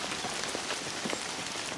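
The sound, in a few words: rain falling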